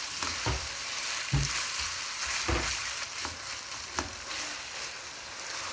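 Minced meat keema fries on a medium flame, a steady hiss broken by periodic thuds and scrapes of a spatula turning it roughly every second; close and loud, no one speaking.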